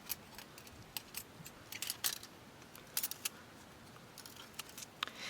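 Small stainless steel and titanium plates of a FireBox Nano folding ultralight stove click and clink together while being folded up, a quick run of light, sharp metallic taps and rattles close by and fairly quiet.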